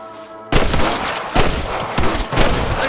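Gunfire in the Western video game Red Dead Redemption: after a faint musical lead-in, loud, close rifle and pistol shots crack out in an irregular series of about four sharp bursts with ringing echoes.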